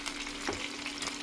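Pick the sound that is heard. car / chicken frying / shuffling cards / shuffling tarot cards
chicken frying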